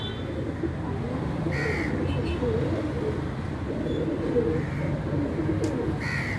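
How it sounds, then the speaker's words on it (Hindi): Crows give a few short, scattered caws outdoors over a steady background of other birdsong and ambient noise, with what may be faint talk. "एक काला कौवा भी गुज़र गया है"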